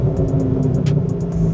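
A low, steady Ford GT mid-engine sports car rumble fills the clip, deep and continuous with a slight throb, close by and alone, without any talking.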